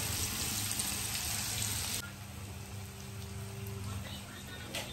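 Onions frying in a pan with whole garam masala, a steady broadband sizzle that drops noticeably partway through and continues more softly, close and continuous with no talk over it.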